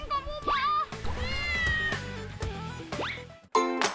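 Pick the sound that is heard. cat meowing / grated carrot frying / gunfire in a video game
cat meowing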